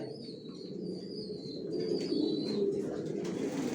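Pigeons coo steadily in a breeding loft where stock birds are kept, a low continuous murmur of many birds close by, with a few thin higher calls drifting over the top.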